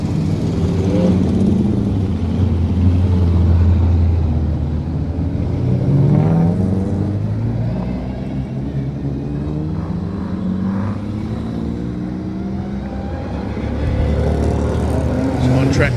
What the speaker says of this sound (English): the big V8s are about to make their way back onto the track